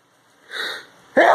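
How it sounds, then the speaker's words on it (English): A single close, loud human sneeze with a short breathy inhale first, then a sharp explosive burst. "I should have said peak and then sneezed."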